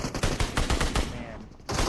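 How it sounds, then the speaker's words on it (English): Gunfire in the mobile battle royale PUBG Mobile on the desert map Miramar, a burst of rapid repeated shots, loud and close, followed by a short pause and another shot. "Now, I can hear gunshots, right?"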